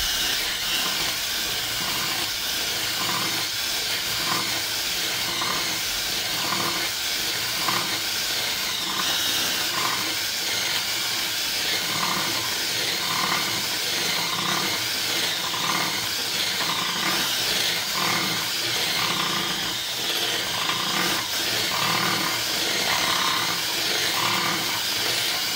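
A drill bit grinds out the rear axle bushing of a 1993 Mustang Cobra 8.8 rear end, producing a steady, close, hissing churn with a faint rhythmic pulse that runs unbroken for the whole stretch, with no talk.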